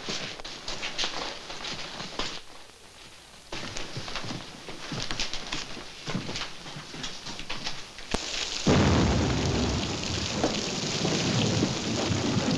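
Heavy rain pours steadily, broken by rolling rumbles of thunder, with a sharp loud crack and downpour surging toward the end.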